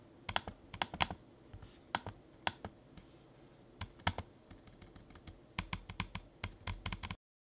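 A Lenovo IdeaPad Flex 5 laptop trackpad clicks loudly and snappily, sharp close clicks arriving singly, in pairs and in quick clusters with short gaps, ending abruptly in silence.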